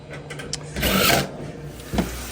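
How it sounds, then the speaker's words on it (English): A Maytag washing machine running its casual cycle, with a steady mechanical churn and hum that rises into a louder swishing surge midway, plus a brief thump near the end. "Washer is on its second cycle, the casual cycle, doing great."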